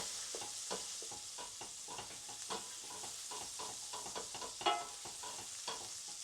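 Roasted garlic is mashed with the back of a spoon in a pan over a soft sizzle, with repeated close scraping and pressing strokes in an uneven rhythm and one louder clack near the end.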